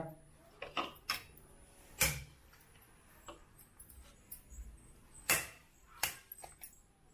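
A knife slices through roasted brinjal, giving a string of sharp, isolated taps and clicks at an uneven pace, fairly quiet and close, with small thuds against the cutting surface in between.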